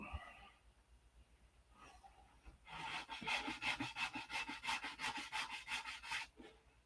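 Sandpaper rubbing over a P-47 model aircraft: faint scuffing at first, then a quick, steady run of back-and-forth strokes, close by and fairly quiet, with no talking.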